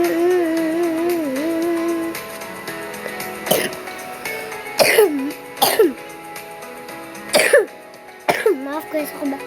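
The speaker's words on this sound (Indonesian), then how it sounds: "Maaf guys, aku batuk." Several sharp coughs burst out in a short series, spaced a second or two apart, loud and close over a bed of game music and background chatter.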